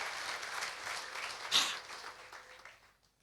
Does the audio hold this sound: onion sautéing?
no